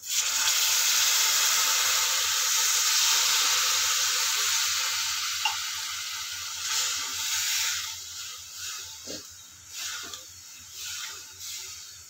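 Stuffed parwal fried with masala in a pan, giving a steady, close sizzle that slowly eases off, with occasional scrapes and clicks as it is stirred.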